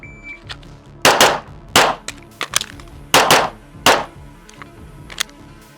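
An AMY556 rifle firing in a box drill, sharp loud cracks in quick pairs with a brief reload gap between, ringing steel hits and clatter in an outdoor range.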